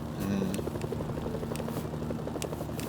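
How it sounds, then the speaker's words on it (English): A helicopter in the video game Mercenaries: Playground of Destruction thrums with a steady, loud rotor chop and engine whine throughout, with no talking. "use your body to protect the helicopter."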